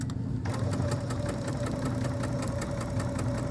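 A sewing machine stitches a small quilted ornament trivet, its needle running in a fast, even mechanical chatter with a steady motor hum after a brief quieter start, close and continuous.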